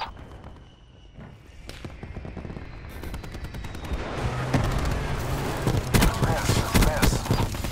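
Rapid bursts of aircraft gunfire in Call of Duty: Black Ops 4 build from a low rumble into dense, loud strafing fire that continues through the final seconds.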